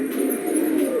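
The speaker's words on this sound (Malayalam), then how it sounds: "എല്ലാ പ്രാവുകളെയും നമ്മളിതാ തുറന്നു വിട്ടിട്ടുണ്ട്." Pigeons in a loft, males, females and young let out together, coo in a steady, close, overlapping murmur of low throaty calls with no voices over it.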